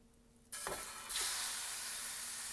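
A pound each of ground beef and hot breakfast sausage drops into hot oil for a Cajun four cheese lasagna, setting off a sudden loud sizzle that grows stronger as stirring starts and then keeps up a steady, close hiss.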